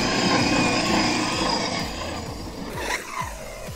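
An Arrma Mojave EXB RC car runs at 85% throttle, its motor and tires producing a steady loud whine with repeated rumbling bumps, easing off slightly toward the end.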